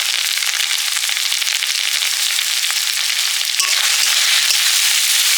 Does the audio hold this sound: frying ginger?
yes